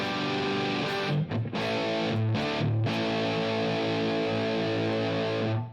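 A heavily distorted electric guitar through a Line 6 HX Stomp snapshot holds dense, saturated chords with a few brief breaks between strums, loud and close, with no voices.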